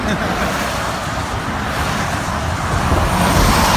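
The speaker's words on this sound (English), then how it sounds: "I got all these big trucks going by me." Heavy trucks pass on a road beside the Appalachian Trail near the Pennsylvania–New Jersey line, a steady, loud roar of tire and engine noise that swells toward the end, with wind adding to the wash.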